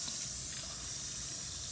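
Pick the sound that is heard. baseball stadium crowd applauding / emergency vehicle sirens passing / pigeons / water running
water running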